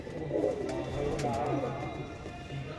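Pigeons in a coop with plastic perches give low, rolling coos under steady background noise, with a few faint sharp sounds mixed in.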